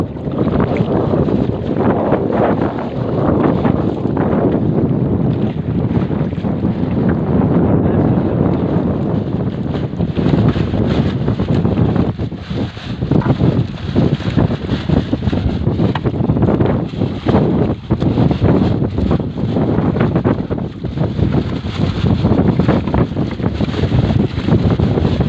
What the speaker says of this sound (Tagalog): Super hangin talaga.